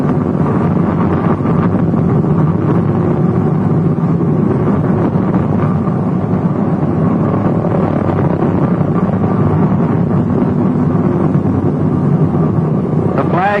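Four-engine B-24 Liberator bomber taxiing on the ground at the Ford Willow Run plant, a steady loud droning rumble of piston engines with wind buffeting throughout, heard from on board.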